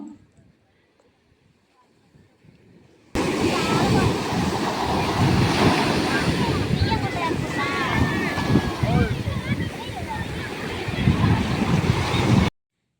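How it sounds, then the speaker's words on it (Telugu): Ocean waves wash steadily onto a beach, making a loud, continuous roar with wind buffeting the microphone; voices of a family with children sound faintly beneath it. "అసలు అలలే మంచిగా రాలేదు చూడండి"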